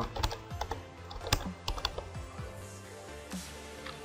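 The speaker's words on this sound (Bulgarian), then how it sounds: "Всъщност, пишем тук." Computer keyboard typing sounds close by as quiet, irregular clusters of key clicks with brief pauses between bursts, and no talking.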